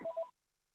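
A phone rings in a short electronic double tone for about a third of a second, then is cut off abruptly into silence.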